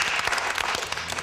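An audience claps for Curtis at a school info night, a short burst of dense, steady applause.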